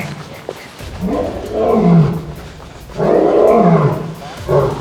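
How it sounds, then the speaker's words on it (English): A lion at a zoo gives two long, loud roars that swell and fade in turn, with a voice talking nearby between them. "Did you hear that? What is that? That's a lion, Oakland."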